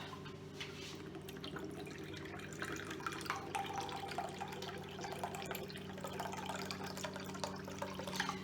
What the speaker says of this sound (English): We are going to pour about 3/4 cups of chicken broth.